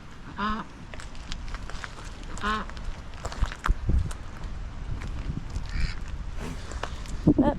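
Several big ducks honk intermittently at Torcross near Slapton Ley on the South Devon coast, some calls near and some farther off, over an outdoor background with light rustling and bumps.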